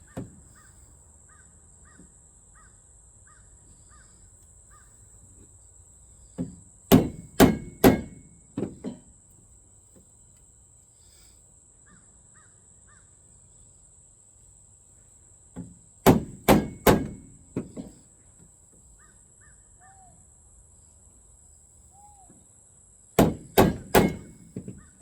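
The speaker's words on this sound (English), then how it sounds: "I'm going to take this 1-inch chisel and I'm going to score it along these lines here and here." A one-inch chisel scoring wood is struck in three separate bursts of sharp knocks, three to five hits each, close and loud over quiet room noise, with faint crow caws in the background.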